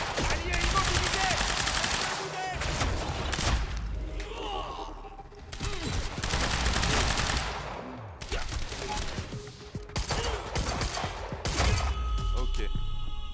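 Shotgun gunfire in the shooter video game Quantum Break, heavy repeated blasts and bursts of fire in a busy, loud battle mix, with someone talking over the action.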